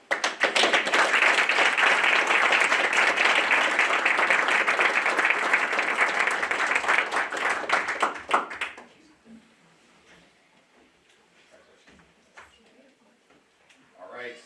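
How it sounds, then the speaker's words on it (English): An audience at a school board meeting bursts into loud, sustained applause for a student for about eight seconds, then it fades to a quiet room with scattered sounds. "Now we get one more fantastic applause for our great."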